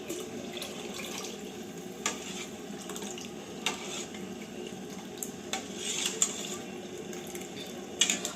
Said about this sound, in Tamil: நான் எடுத்து வச்சுருக்க இந்த முதல் பாலை வந்து அதில் கலந்துக்கிறேன்